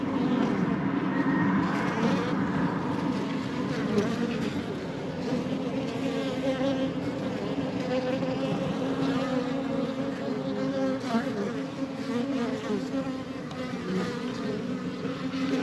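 Honeybees inside a top bar hive produce a dense, continuous buzzing drone, close and steady throughout, with no speech.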